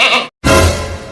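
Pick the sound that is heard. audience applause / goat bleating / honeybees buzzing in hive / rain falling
goat bleating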